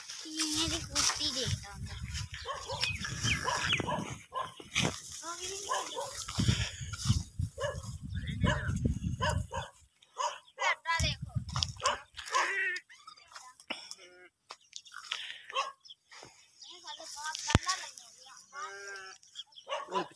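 A female dog barking in short, close bursts at home, with people talking and whispering around it throughout.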